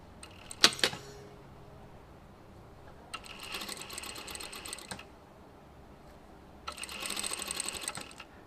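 A sewing machine stitches pre-made bias binding in short bursts: a quick clatter, then two longer steady whirring runs separated by quiet pauses, close and fairly soft.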